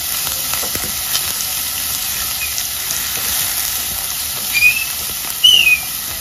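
Garlic and curry leaves fry in hot oil in a pan for a Goan pulav, a soft steady sizzle with small crackles and a couple of brief sharper pops near the end, without speech.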